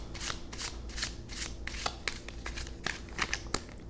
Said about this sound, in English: Let's try one more shuffle